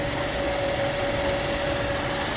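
Engine of a 2013 Chevrolet Traverse idles while warming up after a heater hose replacement and coolant top-off, a steady continuous hum with an even tone, close and unbroken throughout.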